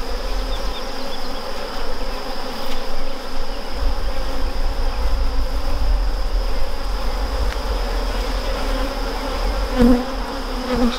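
Honey bees buzz in an opened hive while queen cells are moved, a dense, steady, close hum that continues throughout with no talking.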